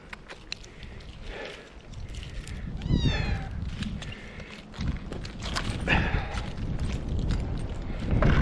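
A cat stuck up a tree in Mississippi meows several times amid outdoor rustling and scraping, the cries moderately close and rising over a busy, noisy background.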